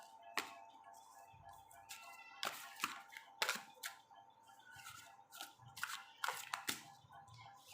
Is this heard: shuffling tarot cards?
yes